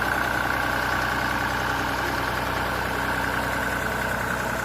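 A Massey Ferguson 35 tractor engine runs at a steady idle, a loud continuous mechanical drone with an even low throb and no change in pace, close by and alone without voices.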